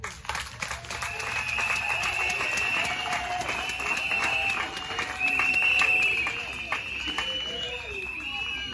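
Audience applause at a women's month morning gathering of the Mines General Secretariat, a steady sustained clapping from a seated crowd that swells slightly midway before tapering.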